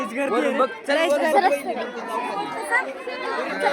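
A crowd chatters nearby at a busy spot on a college trip. Several voices overlap close at hand in a continuous, lively murmur.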